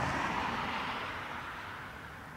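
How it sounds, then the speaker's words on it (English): An ATR turboprop from Glasgow passes in the background near Dublin Airport, a steady broad engine roar that slowly fades over the moment, distant and unaccompanied. "ATR in the background from Glasgow"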